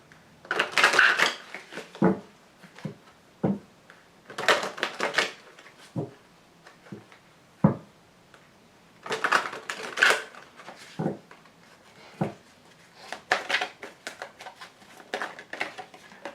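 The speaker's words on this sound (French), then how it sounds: "je vais tirer toutes les cartes" Tarot cards are drawn and laid down with crisp slaps, flicks and shuffling rustles in irregular bursts, set close and fairly quiet, with pauses between.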